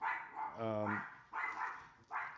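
A dog barks in several bursts, mid-distance and fairly loud, with short gaps between the barks and no speech over them.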